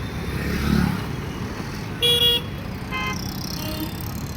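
A family car on a roadside pulls away at the start of a trip to Beed, its engine rumbling up close, with a couple of short horn toots and faint passing traffic around it.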